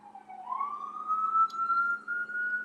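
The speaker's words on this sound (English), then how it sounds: "You hear that siren?" A siren wails in the distance, one clear tone sliding slowly upward and holding steady, fairly faint against a quiet background with a low hum.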